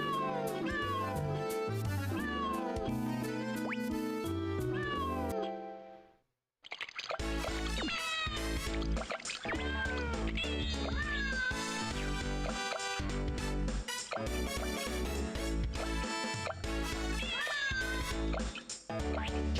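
Many cartoonish cat meows and caterwauls sound in rapid succession in the Jingle Cats video game, dense and loud, with a brief pause midway before the meowing resumes.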